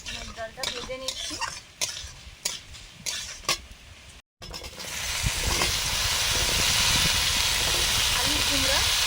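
Mung dal is dry-roasted in a pan while a spoon stirs it, giving a rhythmic series of scraping strokes. After a brief gap a continuous loud hissing sizzle takes over.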